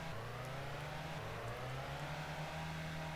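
Racing cars, Mercedes and Ferraris, in the racing game UR2D 2; a continuous engine drone with shifting revving pitch, steady and fairly quiet, no voices.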